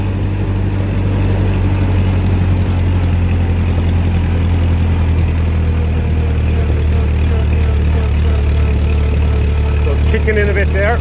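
A 1957 Ferguson 35 TVO tractor engine runs at about 1200 revs, a loud, steady, close low throb that continues throughout, with a brief rattle near the end.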